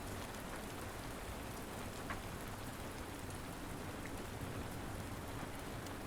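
Rain pelts the glass roof of a Parisian auction house in a soft, even, continuous hiss of drops, faint and distant-sounding, with no other sounds over it.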